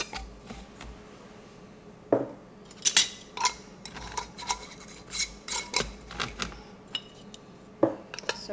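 Metal canning rings being screwed finger tight onto glass jars of home-canned chicken soup, heard as a run of sharp clinks and scrapes of metal on glass, some louder than others, scattered irregularly over a quiet kitchen background.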